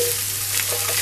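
Chickpeas tossed into a pan with sweet potatoes, frying in a loud, continuous sizzle with a steady hum underneath, close and with no voices.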